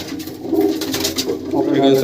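Male tournament racing pigeons coo in a loft, a steady low burbling that runs through the clip alongside some voice.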